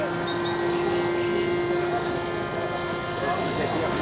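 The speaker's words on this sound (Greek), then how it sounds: "Αχ, κοίτα, πέρασε ένα αεροπλάνο." Airplane passing overhead at a seaplane meeting in Kastoria, Greece, heard as a steady droning engine hum with a sustained tone that holds throughout, under a background of outdoor crowd noise.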